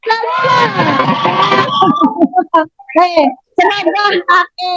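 Students in a classroom burst into loud cheering and excited shouting for a group, a dense two-second roar of young voices that breaks into scattered shouts and chatter.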